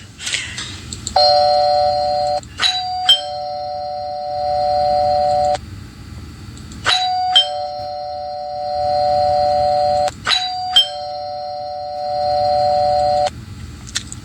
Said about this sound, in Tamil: காலிங் பெல் யாரோ அடிக்கிறது போல இருக்கு பாருங்க